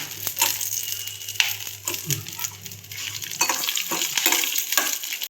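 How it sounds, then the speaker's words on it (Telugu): Fenugreek seeds and green chilies frying in a pan for coconut chutney, stirred with repeated scrapes and clinks over a steady sizzle; close by, with no voices. "మెంతులు బాగా ద్వారగా వేగాలండి పచ్చిమిర్చి కూడా వేయించుకోవాలండి"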